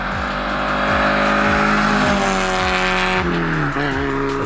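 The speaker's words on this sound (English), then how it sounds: "we pointed the Miata towards the hills and let all 4 cylinders sing." A Mazda Miata's four-cylinder engine drives hard toward the hills, a loud, steady rasping drone that rises in pitch as it accelerates, then drops with a gear change before climbing again.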